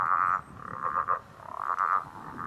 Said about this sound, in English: makes the growling grass frog more prone to inbreeding